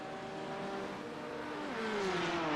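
Porsche Cayman GT4 race cars roar down the long straight at Monza, a sustained engine drone with a rising pitch as one car closes in, steady and moderately loud with no talk.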